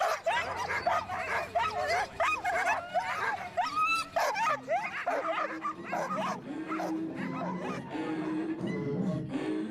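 Sled dogs barking, yipping and whimpering in Nunavut, many overlapping excited calls close by, dense and continuous with rapid bursts throughout.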